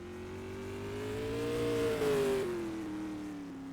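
Supermodified race car at speed around Madera Speedway during time trials, a loud engine drone rising in pitch through about two seconds and then easing back off as it passes, with no talk over it.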